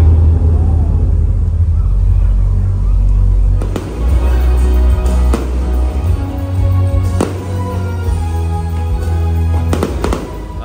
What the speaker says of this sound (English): That's me watching the firework display here at SeaWorld